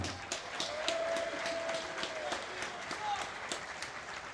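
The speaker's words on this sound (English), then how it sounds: "let's have a huge round of applause for these warriors" Moderate applause and clapping from a crowd at a cage fighting event, individual claps standing out within a steady wash, with voices mixed in underneath.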